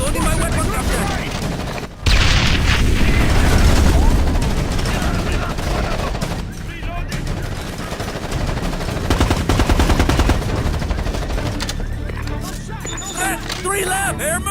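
Squad gunfire in Tom Clancy's Ghost Recon Advanced Warfighter: sustained, loud bursts of automatic rifle fire and booming impacts running through the whole stretch, with radio-style voices calling out over the shooting.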